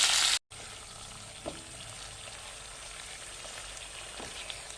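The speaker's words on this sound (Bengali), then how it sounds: "তেলের মধ্যে একটা তেজপাতা, একটা শুকনো লঙ্কা দিয়ে দিলাম" Bay leaf, dried red chilli and spice paste fry in hot oil in a home kitchen, a steady soft sizzle with a brief cutout near the start and a few faint stirring clicks.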